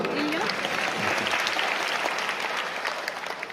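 Steady applause fills a lecture hall as an audience claps for someone at a talk, dense and even throughout, tapering slightly near the end.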